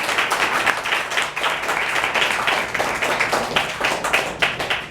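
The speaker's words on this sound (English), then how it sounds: "Could I have a round of applause, please, for our three brilliant volunteers?" An improv comedy audience claps for three volunteers, a steady burst of close, crisp handclaps with slight rhythmic pulses that carries on throughout without fading.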